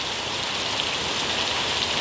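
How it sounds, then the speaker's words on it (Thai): Steady, loud rain pours down over a durian orchard, a dense even hiss with no pauses and no voices. "ฝนตกอีกแล้ว"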